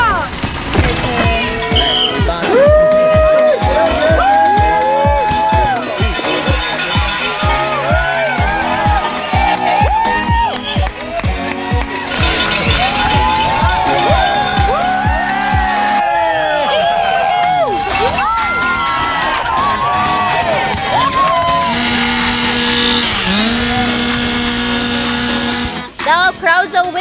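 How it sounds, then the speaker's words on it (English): A noisy crowd at a downhill mountain bike race, loud and sustained, with shouting voices and rhythmic clatter running throughout, as spectators wait for the elite men's riders to come down. "Now crowds are waiting for elite men to come down."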